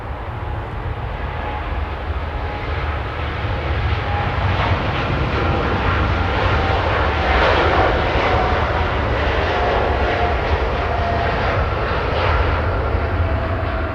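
A KLM passenger jet takes off at Los Angeles International Airport, its engines a loud, steady roar that holds strong and close for the whole stretch with no voices.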